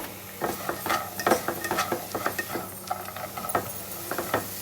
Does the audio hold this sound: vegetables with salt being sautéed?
yes